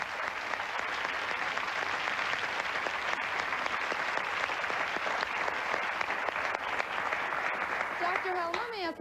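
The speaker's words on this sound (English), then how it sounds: "Let's have a round of applause for Wei Ann, the mother," Studio audience applause on a 1992 daytime talk show, a steady, loud wash of clapping throughout, with a voice starting to speak over it near the end.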